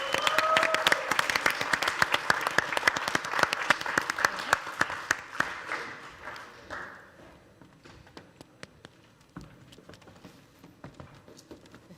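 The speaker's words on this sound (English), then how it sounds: "Can we please give Ewan a big round of applause?" Audience applause after a call to clap for a helper at a Nordic sommelier championship, a dense burst of many hands that holds steady for several seconds, then thins to scattered, fading claps.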